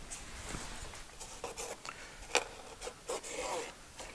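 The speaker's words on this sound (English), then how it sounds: "This is where a trim removal tool comes in handy." A plastic trim removal tool scrapes and pries at a car's interior trim panel during a dash camera install: quiet, close rubbing and scratching strokes with a few sharp clicks, in short irregular bursts.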